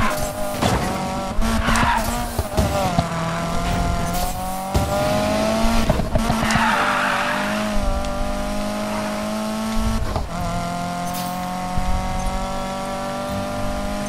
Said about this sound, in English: I want to drift around.